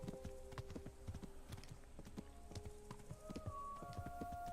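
A horse's hooves clip-clop at a steady walking pace in the medieval game Kingdom Come: Deliverance on PS4, moderately loud, with soft sustained musical tones entering near the end and no speech.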